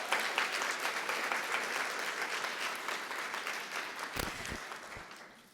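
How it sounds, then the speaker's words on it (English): Conference audience at a race and health equity event applauding a speaker, a steady dense wash of clapping that fades near the end, with a few faint voices underneath. "Can we give Kay another round of applause?"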